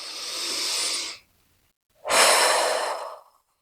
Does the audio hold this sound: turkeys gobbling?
no